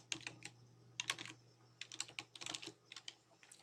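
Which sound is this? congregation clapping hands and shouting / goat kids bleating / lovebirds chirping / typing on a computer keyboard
typing on a computer keyboard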